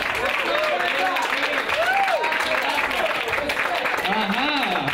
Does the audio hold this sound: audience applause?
yes